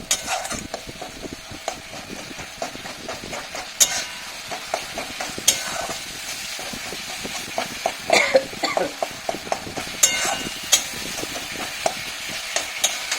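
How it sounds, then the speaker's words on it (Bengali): Spicy salted fish curry being sautéed in a pan, with the scrape and clack of a spatula stirring over a faint sizzle, irregular knocks against the pan, near and fairly quiet. "ভালো করে কষাবো।"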